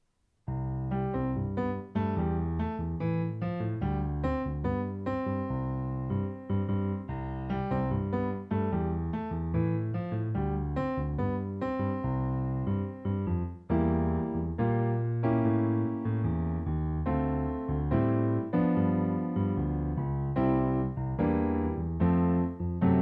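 Solo piano playing an arrangement of a calypso jazz tune, bouncing melody over a low left hand, continuous and close with no talking.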